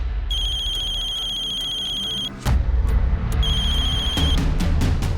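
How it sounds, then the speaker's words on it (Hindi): A telephone rings with two bursts of a bright, repeating electronic trill, separated by a brief pause, loud and close over a low background rumble. "उसका हमारे पास फोन आया।"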